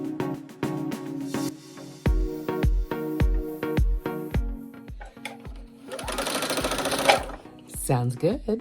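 A Husqvarna embroidery sewing machine starts up with a quick run of rhythmic needle strokes, then settles into a dense, steady mechanical whir before stopping. It is close and clear, with a faint voice or hum early on.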